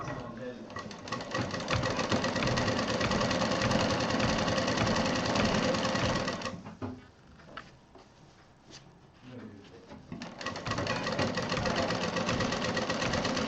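A sewing machine stitches fabric layered over foam for a DIY fridge handle cover, running in a fast, loud, steady chatter that pauses briefly midway with softer handling noises before resuming at full speed.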